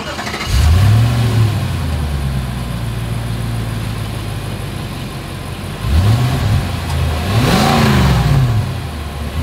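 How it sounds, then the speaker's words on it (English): A 2023 Nissan Armada, Nissan's largest SUV, starts up and revs through its exhaust, with a rising engine roar, a steady idle, then two more sharp rev blips near the end, loud and close with no talking. "As always, here is that exhaust clip."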